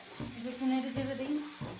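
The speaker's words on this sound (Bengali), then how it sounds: "একটু নেড়ে চেড়ে দিই" Food stirred while frying in a small home kitchen pan, with a faint sizzle and a few soft stirring scrapes over a quiet tonal hum.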